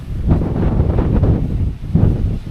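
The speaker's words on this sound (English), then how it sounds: "sheltered from the wind. It's blowing a hoolie." Strong wind buffets the microphone in a steady, loud rumble with gusty surges, low and roaring, with no voices.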